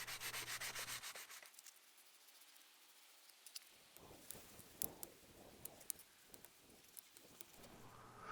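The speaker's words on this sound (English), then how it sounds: "I'm using a 150 grit. It's pretty aggressive, but I want to remove these small gouges and smooth things out." Sandpaper of 150 grit rasps over the wooden stock of an H&R 088 shotgun, stripping old finish and gouges: a loud burst of rubbing, a short pause, then a run of short, close scraping strokes.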